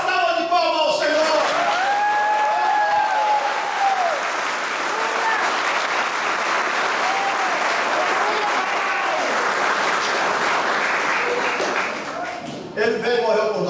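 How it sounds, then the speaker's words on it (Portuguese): A church congregation at a Baptist service applauding, dense and sustained clapping filling the room with some cheers and whoops mixed in, ending with a voice speaking at the close. "dá uma salva de palmas ao Senhor."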